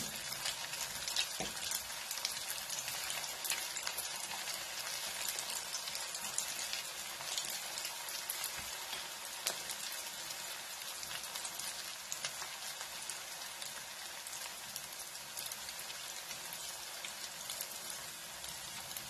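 Mini samosas deep frying in oil over a medium gas flame, giving a steady, even hiss of bubbling that runs unbroken and fairly quiet throughout.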